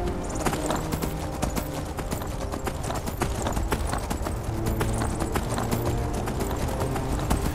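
Horse hooves clip-clop steadily in the Skyrim video game, a brisk, even rhythm of sharp hoofbeats that runs without a break over a dense bed of game music and ambience.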